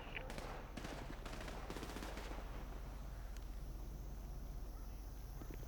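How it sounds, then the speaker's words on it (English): Distant bursts of gunfire in GTA as players shoot at police, a few quick volleys of faint cracks in the first couple of seconds over a low steady background hum, then fading to quiet ambience. "they're just popping shots at police"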